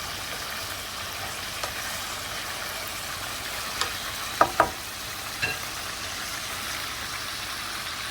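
Chicken karahi frying in a pan gives a steady close sizzle, with a few sharp clinks of the spoon as the pieces are stirred and turned.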